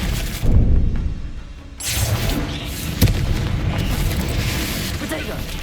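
Confringo blasting spell from the Hogwarts Legacy video game: a loud booming blast that settles into a dense, rumbling roar, with a sharp crack midway and a voice in the game.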